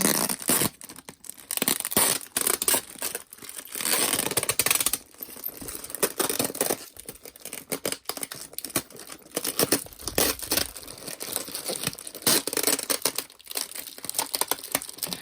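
Tape is ripped and crinkled off a jewelry shipping package in a long run of close, loud tearing and crackling bursts with short pauses between them and no talking.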